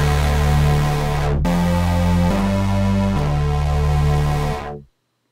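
A dubstep synth built in FL Studio plays a loud, buzzing, harmonically rich bass line of sustained notes that step to new pitches a few times after a brief cut, then stops abruptly near the end.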